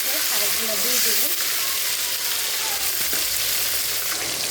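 Chicken pieces sizzle and crackle in hot oil on a gas stove, a loud, steady frying hiss up close, with a faint voice briefly at the start.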